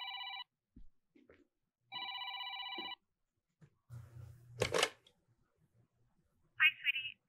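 Telephone ringing in the video game Decadence: two bursts of an electronic ring, near and clear, followed by thuds, a brief loud rustle and a short chirpy tone, with no talking.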